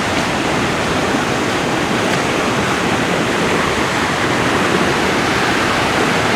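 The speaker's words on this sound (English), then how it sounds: "This is a creek right behind my house." Rain-swollen creek behind a house rushing steadily after days of heavy rain, a loud, unbroken broadband roar of churning water up close, with no voices.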